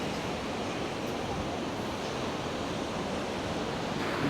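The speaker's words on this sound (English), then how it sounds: "It's very windy" Strong coastal wind along the Great Ocean Road near Port Campbell, with steady broadband roar from wind and surf battering the microphone, loud and unbroken throughout.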